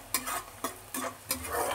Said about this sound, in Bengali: আমি একটুখানি পেঁয়াজ আর রসুন একটুখানি ভেজে নিচ্ছি